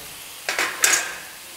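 Onions sautéing in a pan for an egg gravy as ginger-garlic paste is added give a brief close stir and sizzle lasting under a second, then fade.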